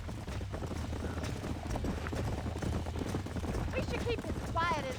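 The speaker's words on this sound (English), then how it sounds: "Last thing we want to do is spook the horses." Horse hooves clip-clopping in the Red Dead Redemption video game, a steady rapid rhythm under continuous talk, with a brief higher-pitched voice or whinny-like sound near the end.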